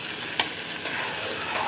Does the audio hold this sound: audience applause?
no